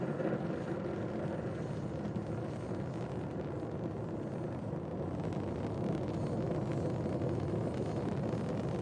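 Steady, unbroken low rumble of a rocket launch vehicle carrying the NROL-68 payload during early ascent, distant and broadband, holding constant loudness with no voices present.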